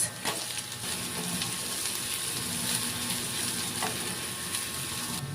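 Garlic and onion frying in oil and margarine for a beef caldereta, a steady loud hissing sizzle with occasional light stirring clicks close by.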